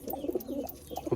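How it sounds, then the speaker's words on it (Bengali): Close, throaty cooing from a female Kagoji pigeon, its rolling bursts repeating twice within about a second, with a loft of pigeons for sale behind it and no voices. "খুব সুন্দর পায়রা"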